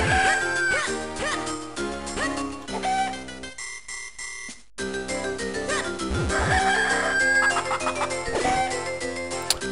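Chickens cluck and crow in the Game Boy Advance game Zelda: The Minish Cap, their bright chiptune calls repeating over dense game music and sound effects, loud throughout with a brief dip near the middle.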